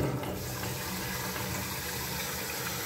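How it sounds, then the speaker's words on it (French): Water rushes steadily into the cistern of a wall-hung toilet in a bathroom, a continuous loud hiss of filling that stays even for the whole stretch. "je vais mettre l'eau en route."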